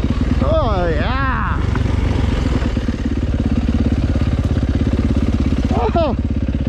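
A hard enduro motorcycle runs continuously up close on rough terrain, its engine a steady, loud, throbbing drone that rises briefly in pitch, while a rider talks over it.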